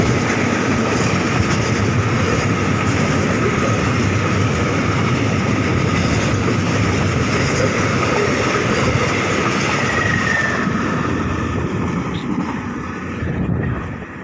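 A train runs past without a break for the whole stretch, a loud, steady roar and rattle of wheels on rails that thins out only near the end.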